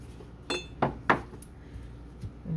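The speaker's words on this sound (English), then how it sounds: "mix it in, and that'll be part of my wet ingredients" A spoon clinks against a bowl while granola ingredients are stirred with almond butter: three sharp close taps in quick succession, then quieter scraping.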